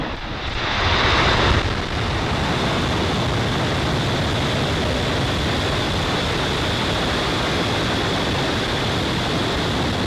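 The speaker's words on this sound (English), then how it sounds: "Ignition and liftoff" SpaceX rocket lifting off from the pad on a satellite launch: a steady, dense roar of broadband rumble that swells in the first couple of seconds and then holds loud and unbroken, distant and unaccompanied by voices.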